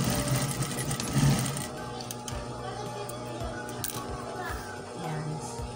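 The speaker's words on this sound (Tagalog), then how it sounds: "Tahiin muna natin ito para mamaya kabit ng kabit na lang tayo." Sewing machine stitching bias binding for a blouse uniform collar, a fast mechanical chatter loudest in the opening seconds then running more steadily, close up, with a voice speaking at the start.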